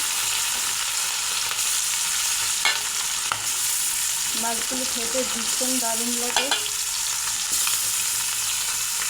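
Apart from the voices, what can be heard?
turmeric-salted puti fish frying in hot oil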